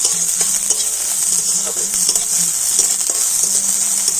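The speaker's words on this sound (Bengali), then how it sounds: "তো দেখুন পেঁয়াজটা একটু লাল লাল করে ভেজে নিয়েছি" Chopped onion and green chillies fry in a pan for a spinach puri dish, giving a loud, steady broadband sizzle with faint stirring scrapes throughout, close up and with no talking.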